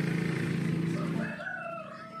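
A Dong Tao rooster crows once nearby, one drawn-out call that rises and then trails off, with no talk over it.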